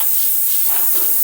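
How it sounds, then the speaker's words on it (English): Water-based degreaser sprayed onto vintage Harley-Davidson motorcycle parts in a workshop, a brief close hissing spray lasting just over a second with no talk. "I'm going to get in there with this degreaser, which is water based"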